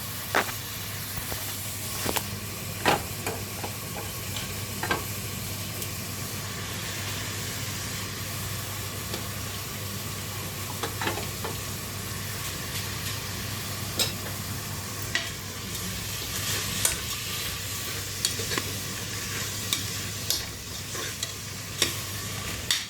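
Washed urad dal stirred in a pot for a simple dal varan, giving a steady scraping and sizzling texture throughout with occasional sharper clinks of the spoon against the pot.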